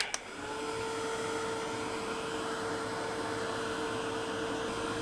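Hair dryer or heat tool blowing steadily over fresh ink on an altered box, a constant close, loud whirring hiss after a brief click at the start, with no speech.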